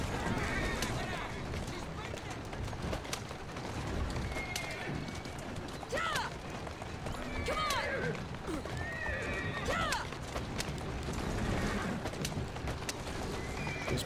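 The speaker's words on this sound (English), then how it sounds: "These poor bloody horses, you know." Horses in the video game Assassin's Creed Syndicate whinny several times over a busy bed of hoofbeats and street noise, the neighs rising clearly above the steady background.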